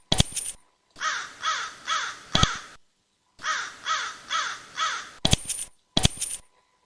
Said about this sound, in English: You are a crow, aren't you?